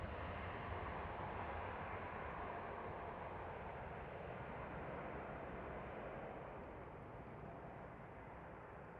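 An airliner at Amsterdam Schiphol spools up without stopping and takes off, a loud, steady broadband jet roar that holds strong throughout and eases only slightly near the end.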